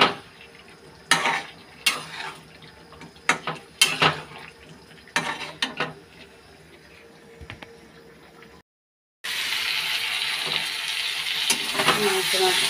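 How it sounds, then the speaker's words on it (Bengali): Spice paste with grated garlic fries in a pan for a meat curry: a spoon clinks and scrapes against the metal in irregular strokes, then a sudden, steady, bright sizzle takes over after a brief gap. "এখন দিয়ে দেব রসুনটা, গ্রেট করে রাখা রসুন। নেড়ে আর একটু ভালো করে ভাজা হয়ে যাবে মশলাটা।"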